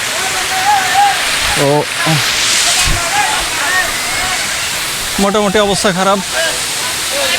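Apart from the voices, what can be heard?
Khoiyachora waterfall flowing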